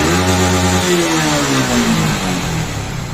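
A Yamaha MT15 motorcycle engine revs hard and climbs to high RPM, a loud, continuous rising whine that sweeps upward smoothly with no stutter, heard close and alone.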